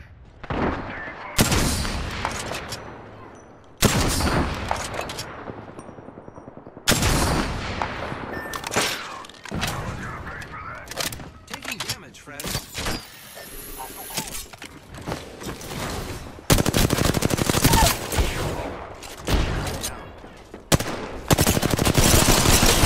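Gunfire in the video game Apex Legends, with loud bursts of automatic fire and single shots in repeated close volleys broken by short pauses and some lower battle noise.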